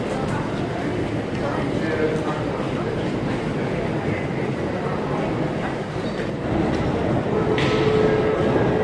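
A Moscow metro train in a busy underground station, heard as a steady loud rumble of rail cars with dense crowd chatter and voices throughout, and a brighter hiss rising near the end.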